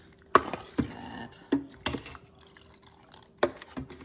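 Several short, sharp splashes and knocks sound as water goes into a pot of ragda gravy with potatoes. They come in a loose, irregular rhythm, with a faint steady hum in the background.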